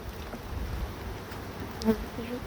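A faint, steady honey bee buzz hums over outdoor background noise during a late winter hive inspection, with one brief louder pass of buzzing near the end.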